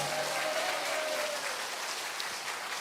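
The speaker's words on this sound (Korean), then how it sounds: "그 소중한 사람들에게 박수 한번 주세요" Church congregation clapping together in a steady, dense wash of applause that holds at an even level throughout, with no voices standing out.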